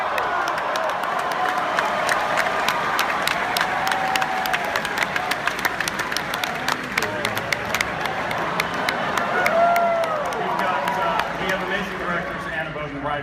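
A convention crowd in a large hall cheering and clapping at the mention of the Skrulls, a loud sustained wash of applause with scattered whoops, under someone talking.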